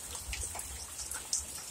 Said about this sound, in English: you get torrential downpours